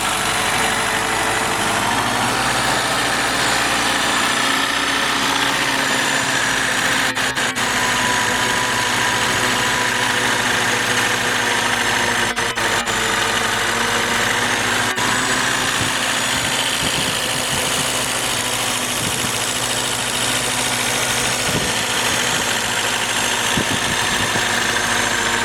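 Willys L134 engine idling after a startup with a new radiator fitted, a steady low rumbling idle with even vibration, close and loud throughout the long stretch, no talking.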